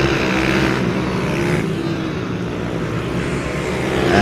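Junior supermoto mini bike engines roar past continuously at Teesside during British Mini Bikes Championship racing, a dense steady drone of several machines with no pause.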